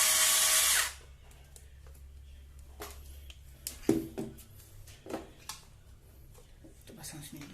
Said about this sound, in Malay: So kita pasang skru sebelah dulu, tapi jangan terlalu ketat terus lah.